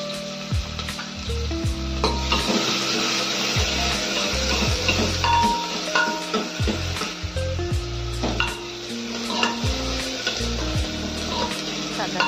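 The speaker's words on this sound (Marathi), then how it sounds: "हा कांदा आपल्याला छान असा परतून घ्यायचा आहे।" Sliced onion and whole spices sizzle steadily in hot oil for a spicy mutton curry, with repeated scraping and knocking from a stirring spoon against the pan, close up and without talk.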